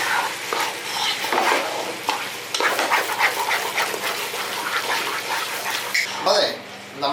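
Kerala-style pasta masala fries on high flame in a pan while being stirred, with loud sizzling, scraping and spatula clatter throughout and a voice talking over it.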